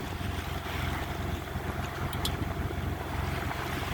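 A sailboat moving at about 10 knots through the Needles North Channel narrows, with a steady continuous rush of water and wind noise against the hull throughout, no voices.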